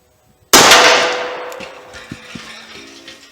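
A .38 Special revolver fires a 170-grain lead semi-wadcutter into a metal tank about 45 yards off, one sharp loud report with a ringing clang that decays over a couple of seconds, followed by faint scattered clicks.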